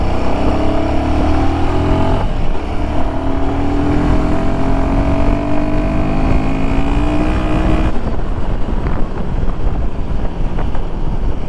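A Royal Enfield Himalayan 452 motorcycle fitted with a performance kit and a pro spec windshield runs steadily in second gear, its engine droning under loud, constant wind rush with a rising tone throughout.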